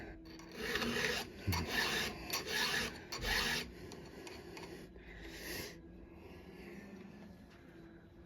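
A hand file rasps against a chainsaw chain in repeated close strokes, a steady rhythm of gritty scraping bursts that grows fainter near the end.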